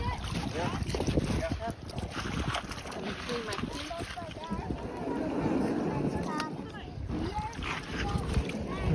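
A small boat moves across open water outdoors, its steady wash mixed with strong wind buffeting the microphone while people talk nearby.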